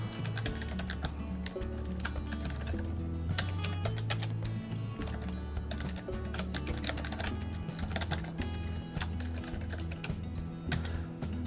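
Rapid, steady computer keyboard typing while Arduino code is written, close and continuous with irregular key clicks, alongside a low tonal hum and no talking.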